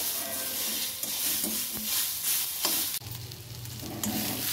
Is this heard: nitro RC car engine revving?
no